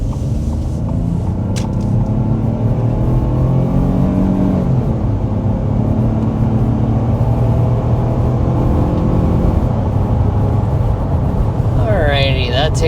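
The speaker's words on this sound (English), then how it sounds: "let's go ahead and start with a hard acceleration" A 2026 Ford Bronco Sport engine under hard acceleration, a loud, steady rumble with a climbing tone that holds for the whole stretch, close and continuous, with a brief higher whine near the end.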